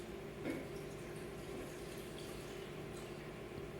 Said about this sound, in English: I'm going to go ahead and add my water first